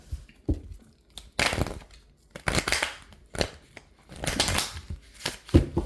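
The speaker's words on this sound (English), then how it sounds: "Shuffle for pile 4." Tarot cards are shuffled for a pick-a-card reading, giving bursts of papery riffling and slapping in uneven clusters, close and crisp, with quiet gaps between.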